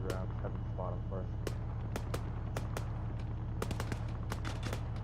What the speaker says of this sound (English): We're gonna fire a few rounds.